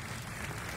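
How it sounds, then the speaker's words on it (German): An applause sound effect plays on a live stream, a brief faint wash of clapping hands, steady and even, with no voices. "Danke für den Applaus."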